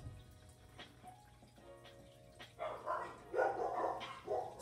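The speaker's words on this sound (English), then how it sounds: "The dogs are going crazy." Dogs bark at New Year fireworks, faint at first and then growing louder in repeated bursts against a quiet background.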